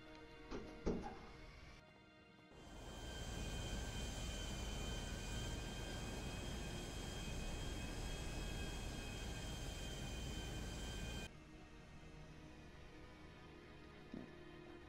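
Steady, loud airplane engine drone in flight inside GTA 5 Online, a broad continuous roar holding for about nine seconds before cutting out abruptly, with quieter game ambience and brief clicks before and after.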